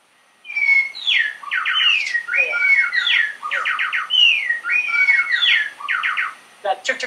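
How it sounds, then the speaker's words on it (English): A male songbird in a duet recording sings repeated whistled phrases with bursts of quick chirp, chirp, chirp notes, in a clear and close rhythmic pattern over several seconds, ending with a few sharp chirps. "you can tell it's a male because you hear these chirp, chirp, chirps"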